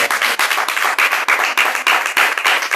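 A church congregation at a Spanish-language prayer and intercession service claps loudly in rhythmic bursts, sharp repeated hand claps close and strong, steady beat without speech.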